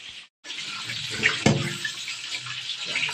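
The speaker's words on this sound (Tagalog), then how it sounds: "Hugasan po muna natin itong lato, seaweed o goso ang tawag." Running water from a tap splashes steadily over guso seaweed being washed in a sink, a continuous close hiss with a brief break near the start and a few soft knocks of handling.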